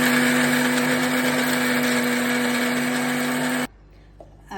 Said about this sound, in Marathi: आता या मिक्सरमध्ये टाकलेलं वाटण